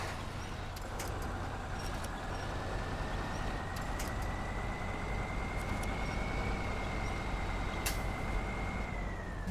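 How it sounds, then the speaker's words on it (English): A truck engine runs with a steady low rumble in the SnowRunner video game, while a faint whine slowly rises and falls and small clicks sound over the constant drone. "Now start the engine"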